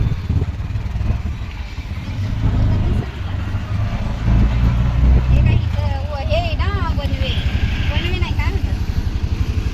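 Heavy early-morning road traffic heard from inside an auto rickshaw, a loud continuous engine rumble with passing vehicles, a diversion ahead, and people talking over the noise.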